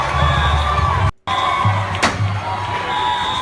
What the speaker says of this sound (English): they're all cheering this fire